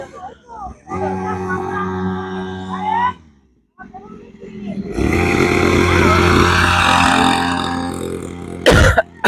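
A 40cc kids' motorbike engine buzzes through a test ride, its tone rising and falling, drops away briefly, then returns louder and more steadily, with someone speaking over much of it.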